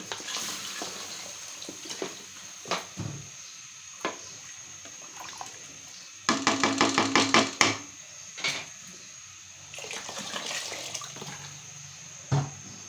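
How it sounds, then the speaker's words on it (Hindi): Water poured into a cooking pot to make broth, a soft running, splashing stream with a burst of rapid sputtering knocks midway and scattered clinks, recorded close in a home kitchen. "और इसमें डालते हैं थोड़ा सा पानी, जितना हमने शोरबा रखना है"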